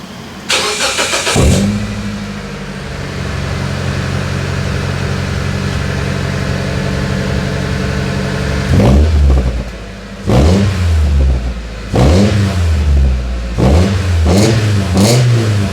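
A Mitsubishi Pajero iO engine cranks and catches, settles into a steady idle, then revs up sharply several times in quick bursts.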